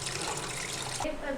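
Chicken pieces being washed in rice-washing water, with running and splashing water that stops abruptly near the end, leaving faint trickles.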